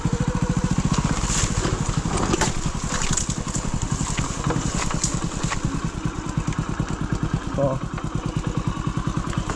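A motorcycle rides off-road downhill on a rough trail, its engine throbbing in a steady rapid pulse with clattering bumps, and someone talks over it.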